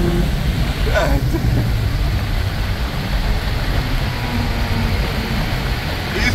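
Honda Accord with an F22 engine and a cheap aftermarket intake, heard from inside the car as a loud, steady engine drone and road rumble that fills the whole stretch without a distinct rev peak.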